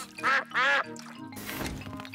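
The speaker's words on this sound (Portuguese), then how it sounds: "Patos, digam muito obrigado para o Papai Pig." Cartoon ducks in a Peppa Pig episode quack twice in loud, nasal bursts, followed by a steady wash of background noise with no speech.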